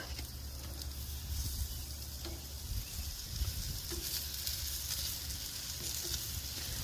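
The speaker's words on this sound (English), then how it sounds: "I'm going to fry up my avocado for a minute" Avocado pieces fry in avocado oil on a Blackstone griddle, giving a steady, close crackling sizzle that runs the whole time with small pops and no voices.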